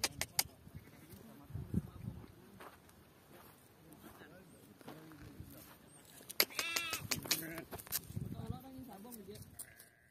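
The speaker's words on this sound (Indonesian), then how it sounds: "Ini domba." Sheep bleat at an ancient Roman site in Oudna, Tunisia, with a clear nearby bleat standing out among footsteps, outdoor noise and people talking throughout.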